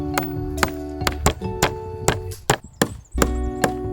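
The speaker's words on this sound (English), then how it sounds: "nailed the frame together" A hammer drives nails into sanded wooden planks to build a frame: about nine sharp, ringing strikes close by at an uneven pace, with no voices.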